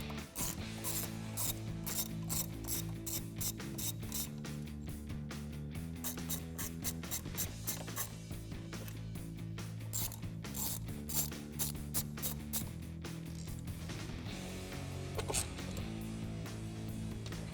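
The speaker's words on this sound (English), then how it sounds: "So I'll get a 10mm socket to get these out." A hand ratchet fitted with a 10mm socket clicks in rapid, even bursts while backing out bolts during a cold air intake install on a 2016-2023 Camaro SS, close and continuous with brief pauses between strokes.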